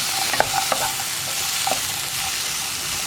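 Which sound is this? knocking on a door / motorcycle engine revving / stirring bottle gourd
stirring bottle gourd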